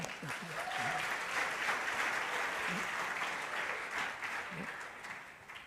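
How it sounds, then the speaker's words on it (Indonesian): Applause from young people at a Christmas youth church service, a steady crowd clapping moderately loud and fairly distant, with a few brief vocal sounds poking through. "tepuk tangan untuk kita"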